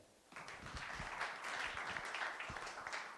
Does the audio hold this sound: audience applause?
yes